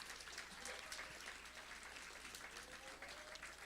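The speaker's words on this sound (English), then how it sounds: "Let's give him a round of applause, Pastor Jordan," A crowd at a school award ceremony applauds Pastor Jordan with sustained, even clapping that stays faint and distant from start to finish.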